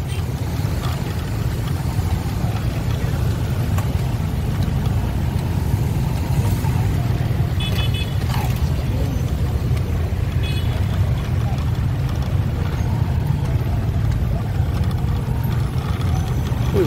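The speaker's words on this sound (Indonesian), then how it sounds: "Kondisinya macet ramai." Congested, busy road traffic on Jalan Raya Galaxy in Bekasi, a dense steady rumble of idling and creeping engines, loud and close, with a faint horn beep partway through.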